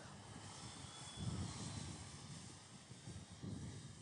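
A small drone flies a programmed route over vineyard plots, checking their temperature. It gives a faint, steady buzzing hum that swells and fades slightly as it passes. No voices can be heard.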